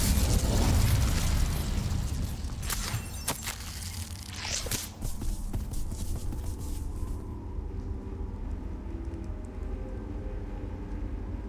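Fire spell cast in the game Hogwarts Legacy: a loud burst at the start, then crackling and whooshing bursts that fade into a quieter rumbling tail, with no talking.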